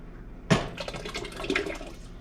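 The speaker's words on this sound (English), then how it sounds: "I'm going to put just a little water in it." A little water splashes into a jar while cooking homemade vegetable beef soup, a sudden close pour with a sharp onset followed by a couple of seconds of gurgling and sloshing.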